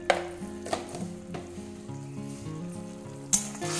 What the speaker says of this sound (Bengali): এটা একটু ভালো করে কষে নেব যতক্ষণ না এর থেকে তেলটা উপরে আসছে